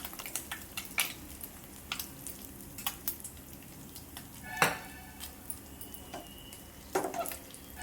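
Oil sizzling softly in a pan for a bangda fish curry, a low frying hiss broken by scattered clinks and scrapes of a utensil against the pan, close and fairly quiet.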